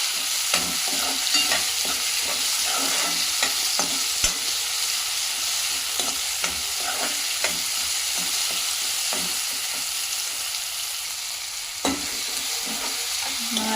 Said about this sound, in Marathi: टोमॅटोला पण सेम फ्राय करून घेणार आहोत